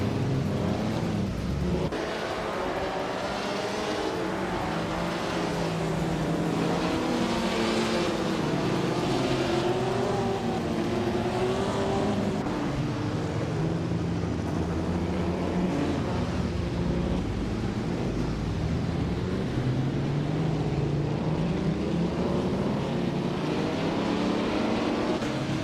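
Race cars in a video game, led by a 1957 Ferrari 250 Testarossa at the start at Goldenport, roar together as a steady, dense engine drone with shifting revving tones throughout.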